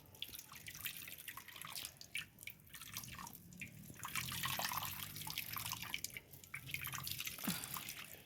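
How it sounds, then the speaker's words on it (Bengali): A banana mixture is poured through a net strainer, giving a soft continuous trickle and patter of dripping juice, close but quiet, with no voices. "এই কলার মিশ্রণটা আমি সব দিয়ে দেবো ঢেলে দেবো দিয়ে আমি এটাকে ছেঁকে নেব দেখুন"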